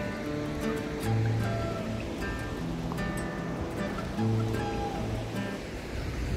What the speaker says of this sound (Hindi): ये आप देख सकते हैं काली नदी, जो ओम पर्वत से, ग्लेशियर से ऊपर पर्वतों से निकल के आती है